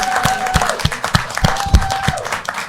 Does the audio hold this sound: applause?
yes